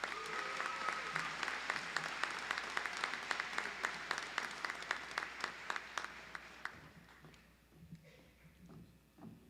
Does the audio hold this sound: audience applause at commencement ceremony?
yes